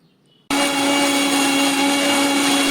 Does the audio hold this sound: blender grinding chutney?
yes